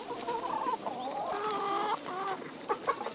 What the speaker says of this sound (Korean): 사람도 먹기 힘든 열매도 닭들이 먼저 차지합니다